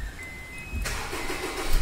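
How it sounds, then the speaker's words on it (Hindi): A Honda Civic's engine cranks and catches, a sudden burst of starter and ignition noise that settles into a steady rough idle close by, with a faint whine audible beforehand. "गाड़ी चालू कीजिए अंसारी जी, अब हम आपको इसको चालू करके दिखाते हैं"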